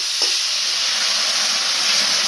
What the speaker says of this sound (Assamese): এইখিনি ভাজি লৈ এচামুচ মই আদা নহৰু খুন্দি লোৱা দিছোঁ আৰু গুড়ি মছলাখিনি দিছোঁ